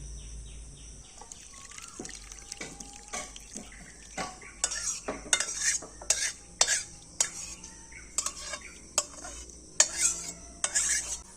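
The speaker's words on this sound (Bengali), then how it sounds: "তো ছানাটা এবার ছেঁকে নিচ্ছি" Fresh chhana (paneer curds) being strained for mango sandesh, with close clinks and scrapes of utensils against a metal pot and the splash of draining whey in an irregular series of sharp taps, no talking.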